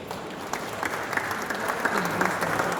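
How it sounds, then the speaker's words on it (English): An audience at an opening night art show for a Rotary charity applauds with steady, dense clapping. The sound rises a little toward the end and is fairly loud throughout, with no speech over it. "Ladies and gentlemen, keep that applause going for Richard Edwards."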